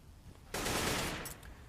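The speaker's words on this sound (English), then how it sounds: "Dupree with a cheeky frag on the A bomb side, shifting the CT's positions around." Gunfire in a Counter-Strike match: one loud, dense burst of rapid shots starts abruptly, holds for about a second and then tails off, heard alone with no talk over it.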